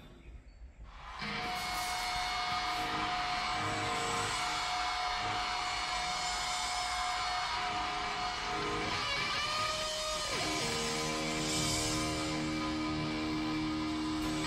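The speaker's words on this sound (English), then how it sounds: "I like when bands do that little feedback at the beginning" Guitar feedback opening a live performance: a loud, steady electric howl over crowd and amplifier noise, with a sustained tone that slides downward partway through before settling into a new drone.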